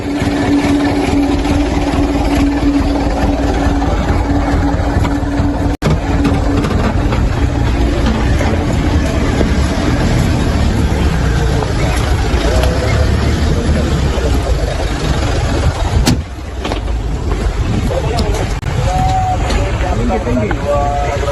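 A boat's engine drones loudly and steadily at close range throughout, a constant rumbling hum in Papua, with muffled voices and chatter mixed in beneath it.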